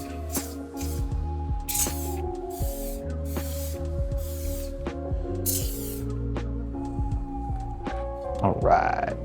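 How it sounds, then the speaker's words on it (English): Several short bursts of hissing glue accelerator spray, each lasting about half a second, over a steady background of tonal hum and low rumble. "Cap it before you spray any accelerator."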